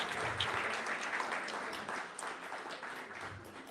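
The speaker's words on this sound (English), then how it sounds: "Everybody, please give a round of applause for Sis Dr." Steady audience applause welcoming a doctor to the stage, a continuous wash of many hands clapping at moderate loudness that tapers slightly toward the end.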